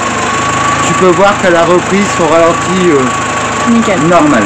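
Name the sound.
car engine returned to idle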